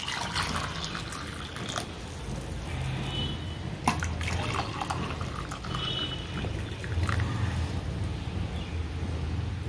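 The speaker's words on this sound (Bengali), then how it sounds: "এবারে আমি এখানে গরম জল দিয়ে দেবো।" Hot water pours steadily into a cup holding two capfuls of apple cider vinegar, a continuous close liquid stream with faint trickling and splashing, no talking.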